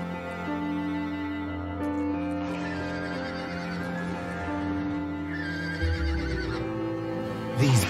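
A black horse whinnies in a long, wavering neigh over a steady droning tonal background in Dracula: Origin, with a short rough snort near the end.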